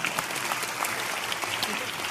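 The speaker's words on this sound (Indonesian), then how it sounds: "Oke, tepuk tangan" A crowd at an Islamic religious gathering (pengajian) claps together in a steady, lively burst of applause that carries evenly through the moment.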